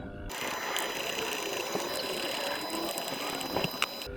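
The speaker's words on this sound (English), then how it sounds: "So all I do is just unscrew the screws out the front of this." Steady ratcheting clicks from a screwdriver backing screws out of the front of an outdoor electrical socket enclosure, running continuously at close range with no talk.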